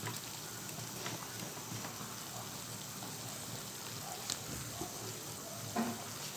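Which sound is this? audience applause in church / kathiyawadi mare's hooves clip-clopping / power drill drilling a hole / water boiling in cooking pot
water boiling in cooking pot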